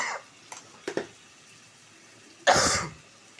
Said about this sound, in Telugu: ఈ మసాలాకి గొంతులోకి వెళ్ళి దగ్గు వచ్చేస్తుంది.